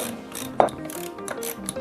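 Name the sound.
wrenches loosening garage door spring coupler bolts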